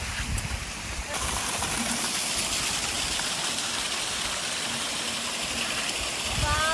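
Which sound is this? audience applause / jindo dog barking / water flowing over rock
water flowing over rock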